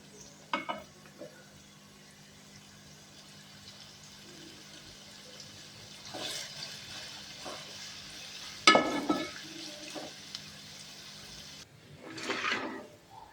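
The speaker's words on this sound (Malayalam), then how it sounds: "സവോള നല്ലോണം വറുത്തു ഇത് കോരിയെടുക്കണം" Onions fry in coconut oil with a faint, steady sizzle, broken by a few soft stirring and scraping sounds from the pan.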